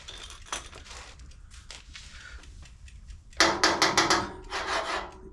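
Bondo body filler on the seams of a car's welded metal panel is sanded by hand, starting with scattered soft scrapes and rubs, then turning into a run of louder, rhythmic rasping strokes close by.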